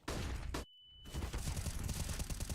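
Gunfire in a professional esports shooter match between NIP and Liquid, a loud dense burst of shots, then a brief gap and a renewed sustained rattle of fire.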